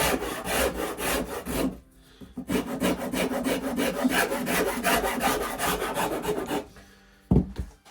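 A coarse file rasps across the wooden body of a handmade acoustic guitar in steady back-and-forth strokes, loud and close, with a brief pause around two seconds and another near the end.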